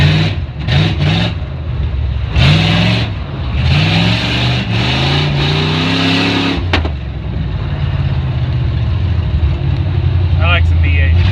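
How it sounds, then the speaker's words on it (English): A Chevy V8 engine in a Jeep YJ rumbles steadily under someone talking, loud and close, with a brief sharp click partway through; the exhaust is cut off. "You can hear that mostly healthy Chevy V8 running under the hood."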